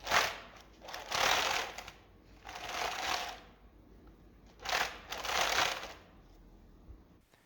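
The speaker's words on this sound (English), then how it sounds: "the wheels started turning, as you can see, well, as you can hear, but they were bumpy and loud" Small motorized omni-wheels with widely spaced perimeter rollers on a tiny VR motorized shoe, turning in loud bumpy rattling bursts of about a second each, separated by quieter gaps, close up.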